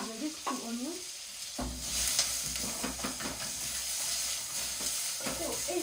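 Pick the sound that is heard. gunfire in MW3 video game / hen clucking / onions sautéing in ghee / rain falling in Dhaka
onions sautéing in ghee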